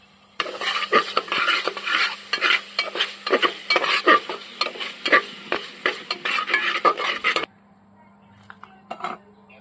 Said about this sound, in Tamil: அரைச்சி வச்சு சின்ன வெங்காயம் இதில் போட்டு வதக்கணும்